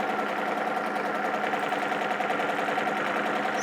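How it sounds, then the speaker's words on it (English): A sewing machine stitches a wiggly quilting line on a baby quilt, a steady, fast mechanical whir running without a break at moderate volume, with no talk. "So I'm working my way up again, just stitching that wiggly line."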